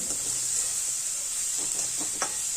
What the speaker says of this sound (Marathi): हा आता कांदा जो आपण इथे परततोय तो गुलाबी होईपर्यंत चांगला परतून घ्यायचा आहे